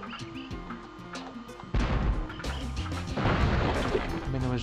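A cannon fires in the video game Spyro the Dragon 2, giving a heavy boom and crash over the game's music and ambient effects.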